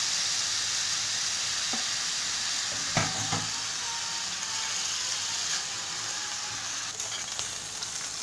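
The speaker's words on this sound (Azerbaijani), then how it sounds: "İndi bu yağda biraz qovururam badımcanları" Eggplants fry in sunflower oil in a pan, giving a steady, close sizzle that holds throughout, with a few faint clinks and stirring scrapes over it.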